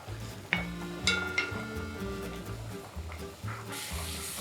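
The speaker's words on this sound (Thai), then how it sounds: "ใส่เห็ดแชมปิญองที่เราซอยบางๆนะครับ ลงไปผัดต่อครับ" Thinly sliced champignon mushrooms sauté in a pan of butter and crushed garlic, giving a steady close sizzle broken by a few sharp utensil clinks and stirring scrapes, with faint tonal background sound.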